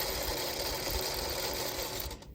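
A sewing machine runs steadily at speed, stitching pieces of a spring basket quilt block with a quarter-inch seam guide, then winds down and stops near the end.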